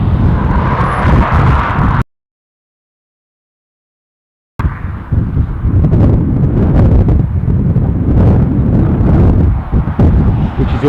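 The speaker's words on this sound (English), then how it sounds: "although it's obviously incredibly windy" Strong gusts at Dublin airport batter the microphone with heavy, rumbling buffeting that cuts to total silence for a couple of seconds before roaring back just as loud.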